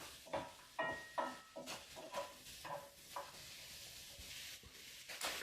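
Chicken sautéing slowly in a pan for chicken Marsala, a faint sizzle with soft scraping and stirring knocks at irregular intervals, quiet and close.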